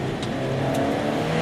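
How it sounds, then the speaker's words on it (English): An Alfa Romeo 4C sports car's engine revs hard and close for a brief burst, a deep, steady, raging roar with a slight rise and no voices. "when you rev it up, it sounds so raging"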